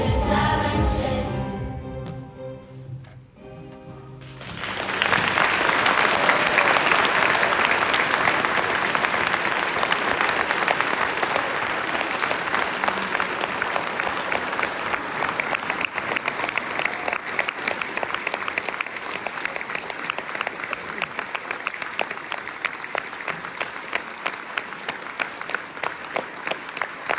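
Sustained applause from an audience at a church nativity service, quiet at first, then swelling after a few seconds into steady, full clapping that continues to the end.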